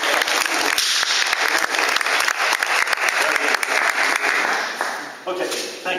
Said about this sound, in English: the horses do love hearing your clapping